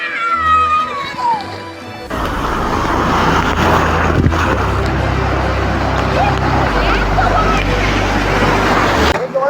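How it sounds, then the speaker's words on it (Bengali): Ocean waves break on Puri beach in the rain, a loud, continuous roar of surf that swells in after a quiet start, with people talking over it. "কত বড় একটা ঢেউ আসছে।"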